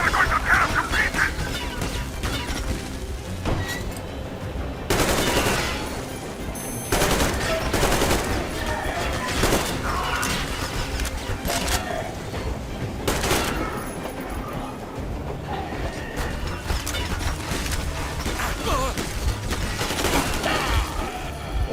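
Rapid automatic gunfire in Metro Exodus, with repeated loud bursts and sustained volleys under combat noise.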